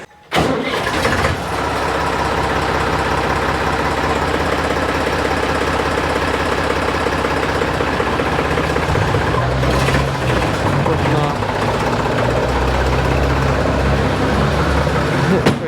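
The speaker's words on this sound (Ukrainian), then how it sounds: "Привіз якраз уже сусід нам погрузчика і буде їхати." A loader engine on a Swiss farm starts and settles into a steady, loud mid-pitched running drone that continues throughout, with a brief surge partway through.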